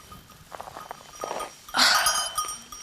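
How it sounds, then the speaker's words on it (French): Small bells on goats jingle close by, first as scattered light tinkles and then a brighter, sustained ringing burst as the animals move. "On peut pas enlever les cloches aux chèvres, là, j'en ai marre d'entendre gling-gling"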